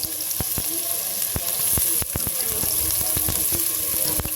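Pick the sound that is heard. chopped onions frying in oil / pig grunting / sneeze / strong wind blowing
chopped onions frying in oil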